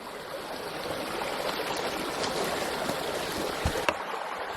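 A creek runs close by at a cowboy campsite, a steady, soft, broadband rush and trickle of flowing water that continues without breaks, with no talk.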